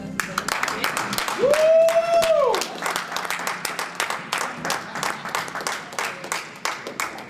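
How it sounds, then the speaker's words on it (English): An audience applauds after a singing performance at an artist platform event. Dense, steady clapping fills the whole stretch, with a rising whoop from someone near the start. "we need to give them more of a hand clap"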